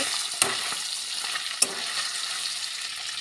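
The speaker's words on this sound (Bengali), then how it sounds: "কড়াইতে তেল দিয়ে মাছের মাথাটাকে ভালো করে ভেজে ভেঙে নেব" Rohu fish head frying in oil in a wok, a steady close sizzle and crackle with a few sharper pops, no voices.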